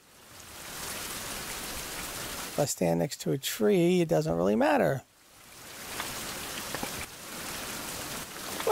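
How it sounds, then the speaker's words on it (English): Steady, hissing rainfall in the survival game Survival: Fountain of Youth runs throughout, briefly overlaid by someone talking in the middle before the rain carries on alone. "It was rain."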